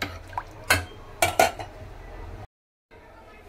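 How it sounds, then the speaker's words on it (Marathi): Chana dal is stirred in water in a pot, a spoon scraping and clinking against the metal in a few short bursts, then a brief silence and faint quiet handling. "चण्याची डाळ मी पाण्यामध्ये चांगली मिक्स करून घेतलेली आहे।"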